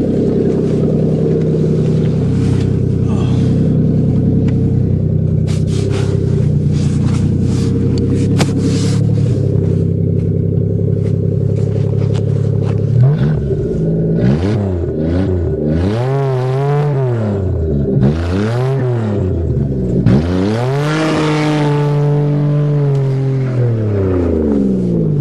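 A 1991 Toyota Camry engine started in winter, idling with a steady low rumble, then revved several times with rising and falling pitch, loud and close with no one talking.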